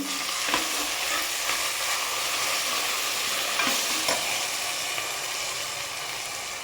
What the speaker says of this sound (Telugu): ఉల్లిగడ్డ ఇలా ఎర్రగా వేగాలి వేగిన తర్వాత అల్లం వేసుకోవాలి